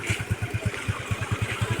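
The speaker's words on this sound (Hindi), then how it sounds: "एक बाइक आ रहा है, पूरा कितना कस करके बाइक चला के आ रहा है।" A motorcycle coming along a flooded road, its engine firing in a fast, even pulse of low thumps that stays close and moderately loud for the whole short stretch.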